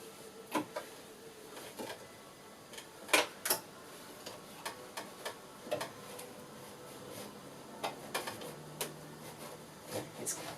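A sewing machine stitches a thick pool blanket cover in short bursts of rapid ticking and clacking, with small pauses between runs, fairly quiet and close, no talking.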